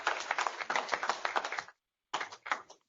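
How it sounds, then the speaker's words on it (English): Audience at a corporate CFO forum claps in a dense burst of overlapping hand claps for about a second and a half, then a short pause, then a second shorter round of clapping. "Can we have a brief round of applause for"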